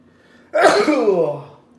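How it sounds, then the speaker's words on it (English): A single loud sneeze rings out close up after a moment of near silence, trailing off quickly. "I'm gonna sneeze."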